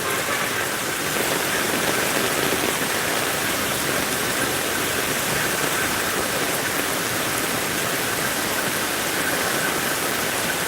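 Heavy rain pours down while floodwater gushes along a road, a dense, loud, unbroken roar of falling and rushing water that stays constant from start to finish, with no voices.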